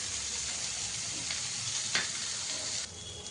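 Shrimp fried in a pan with turmeric and salt make a dense, steady hiss of sizzling oil with a brief scraping stir midway, easing slightly near the end, no talk.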